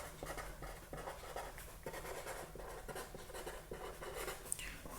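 Marker or chalk writing out a numerical method on a board, soft scratchy strokes repeating in short bursts at close range with no talking.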